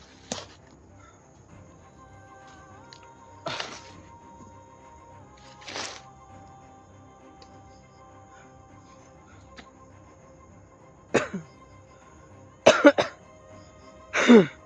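Sporadic coughs spaced several seconds apart, then a tighter cluster of harsher coughs near the end, close by in a quiet room.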